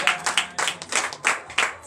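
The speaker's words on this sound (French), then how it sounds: "Donc je vous demande encore d'applaudir très fort" A church congregation at a morning prayer service in Benin claps in quick rhythmic bursts, loud and close, the applause beating in a steady pattern.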